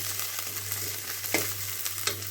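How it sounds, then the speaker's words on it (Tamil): Onions, garlic and dried red chillies frying in hot oil for a capsicum chutney: a steady, close sizzle and crackle with a low background hum and occasional stirring scrapes. "நல்லா வதங்கி வரணும் வெங்காயம்."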